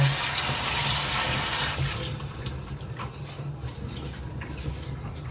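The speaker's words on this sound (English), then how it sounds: "I'm just washing a pepper." Tap water runs steadily while a pepper is rinsed under it, a continuous broad rush with small splashy variations as the pepper moves through the stream, close and fairly loud, with no talk.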